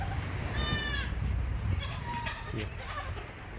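A large, heavy-bodied goat bleats once, fairly close, then gives a shorter cry a moment later, while people talk in the background.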